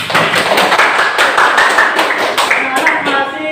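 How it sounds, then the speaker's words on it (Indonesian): A class of students claps together in a classroom lesson, a short burst of close, fairly loud hand claps with a few scattered taps and faint voices mixed in. "Luar biasa, tepuk tangan."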